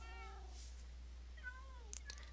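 A black cat meows several times in a row, drawn-out and wavering, fairly close over a steady low hum with no talking.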